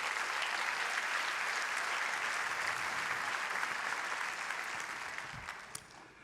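Church congregation applauding together in a worship service, a dense steady wash of clapping filling the room and fading slightly toward the end.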